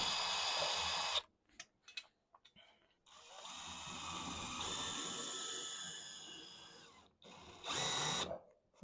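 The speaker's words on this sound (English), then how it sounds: "pre-drilling, not all the way, to hold on to it" A power drill bores a screw hole into a greenhouse roof, running in loud bursts: a whine, several short stop-start trigger pulls, then a longer steady run and a final brief burst, close and alone.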